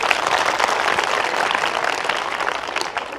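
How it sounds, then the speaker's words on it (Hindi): A group of children clap loudly and steadily at a religious teaching gathering in Mathura, a dense, continuous burst of applause that lasts the whole moment without letting up. "एक बार जोरदार ताली बजाओ।"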